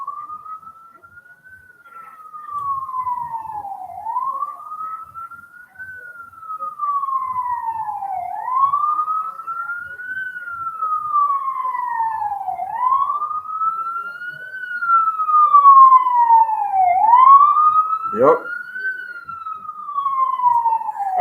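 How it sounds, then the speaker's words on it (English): Sirens from an ambulance and police cars wail in long, rising and falling sweeps, loud and steady throughout, with a brief sharp knock near the end and one short spoken word. "Actually, not just ambulance, but cops as well."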